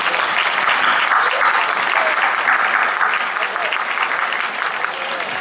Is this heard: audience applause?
yes